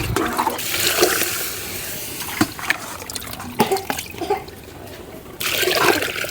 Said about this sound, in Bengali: এখন পরিমাণ মতো পানি দিয়ে দেবো।